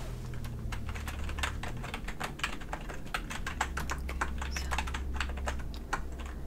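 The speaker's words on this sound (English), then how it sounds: "I'm just typing in your reports now." Steady rapid typing on a computer keyboard in a quiet medical exam roleplay, dense clicking keystrokes close up with no talking.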